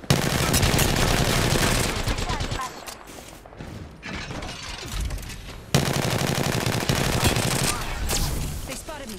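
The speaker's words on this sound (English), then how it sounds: "They spotted me. I'm taking shots." Rapid automatic gunfire from Apex Legends, loud and dense in two long bursts with a quieter gap of scattered shots between them, with game effects around it.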